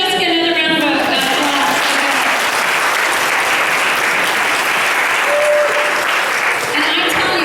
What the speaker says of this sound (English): give Jessica another round of applause.